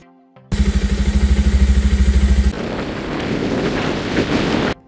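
A motorcycle starts up with a loud, rapid rhythmic engine putter, then gives way to heavy rushing wind noise as the bike rides off, close and intense before cutting out abruptly.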